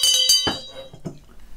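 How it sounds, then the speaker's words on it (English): A bell struck to open a round rings out bright and metallic, two quick strikes with a sustained shimmering ring, then a dull knock and a faint clink as it settles. "Each round is started with the trusty bell"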